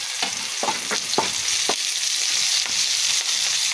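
Chopped onions frying in a pan, with a steady loud sizzle and hiss and occasional scraping knocks of a spoon stirring them through the oil.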